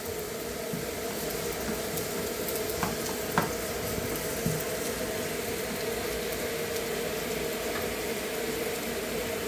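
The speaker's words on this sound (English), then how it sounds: "When almost ready, half ready, I will add my tomato, chopped tomato." Chopped tomato sizzling in a pot of borscht, a steady close frying hiss with occasional small pops and a low background hum, no talking.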